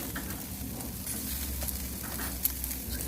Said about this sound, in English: I'm going to get the bacon started.